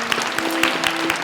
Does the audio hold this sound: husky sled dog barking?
no